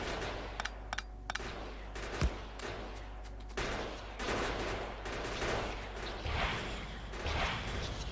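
Gun turrets in the video game Factorio fire at enemies in rapid, overlapping bursts, a steady crackling volley of shots with occasional sharper cracks that persists throughout.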